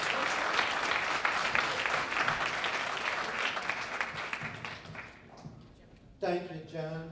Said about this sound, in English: let's give the watchman a round of applause and welcome